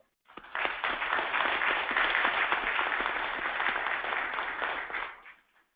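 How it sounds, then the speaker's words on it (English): Conference audience applauding panelists, a burst of many hands clapping that swells quickly, holds steady for several seconds, then fades out. "Give them a round of applause."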